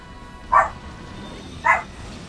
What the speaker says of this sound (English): I'll explain after Dolo finishes barking